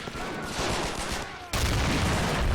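Battle noise from an army men video game: dense, continuous bursts of gunfire and artillery rumble, loud and close, with a sudden jump in intensity midway.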